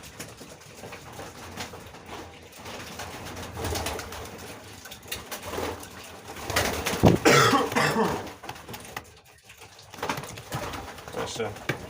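Pigeons coo softly and repeatedly in an enclosed loft, with shuffling, rustling and occasional louder bursts of activity close by.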